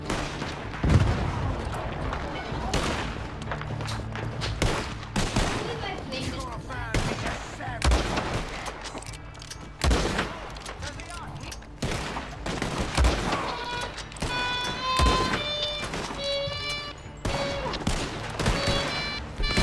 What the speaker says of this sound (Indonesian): Suara menembak iya.